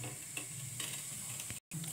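Cumin seeds sizzling in hot oil in a pan for an Indian tadka, a steady close crackle with stirring and a brief drop-out near the end.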